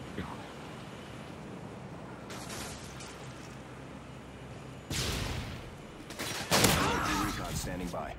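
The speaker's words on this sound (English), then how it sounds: "There's a sentry gun in here." Rapid bursts of automatic sentry gun fire in Modern Warfare 2 crackle and build toward the end, sharp and fairly close, over faint background game noise.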